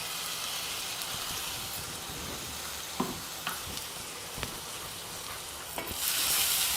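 A paste of mint, green chili and garlic sautés in a pan, giving a soft, even sizzle with a few sharp clinks from a stirring spoon and a brighter hiss near the end. No voices are heard.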